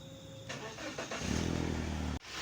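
A black BMW E46 318 with the M43 engine cranks and fires up, the starter whir giving way to a steady idling rumble, close and fairly loud, cut off abruptly near the end.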